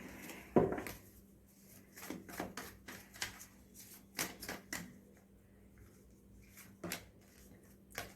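Tarot cards are shuffled and drawn by hand at close range, a string of quick papery riffles, flicks and soft taps coming in irregular bursts.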